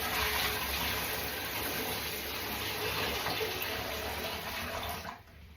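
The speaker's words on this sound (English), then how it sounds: "Tip the water in there and we are done." Water gushing out in a steady continuous pour, loud and close, stopping abruptly near the end.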